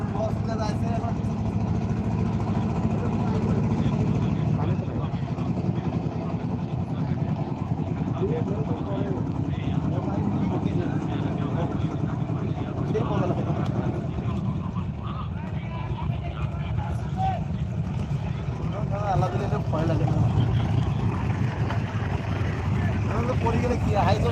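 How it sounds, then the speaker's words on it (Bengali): A boat passes on the Padma river at Rajshahi on a cold day, a steady low engine drone running throughout beneath someone talking over it. "দেখতে পাচ্ছেন নৌকা যাচ্ছে"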